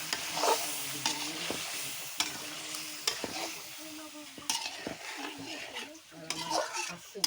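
Fish frying in a pan for a Bengali curry, with sizzling oil and repeated scraping and clinking of a metal spatula as the pieces are stirred, close and fairly loud.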